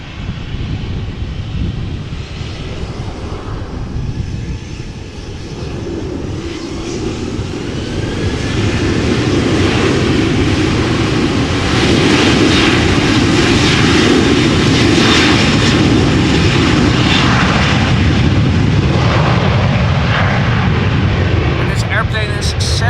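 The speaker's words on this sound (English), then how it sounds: "737-800 that will be going to Gran Canaria, Canary Islands, as Transavia flight" A Transavia Boeing 737-800 departing Amsterdam Schiphol for Gran Canaria builds from a steady jet roar into a louder, sustained full-power rumble about halfway through, with broadband noise and a faint rising whine; no talk over it.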